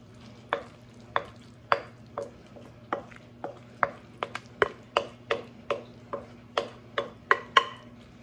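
Spoon mixing bacon ranch potatoes and scooping them into a baking dish, about fifteen distinct scraping clicks spaced steadily, alone with no talking.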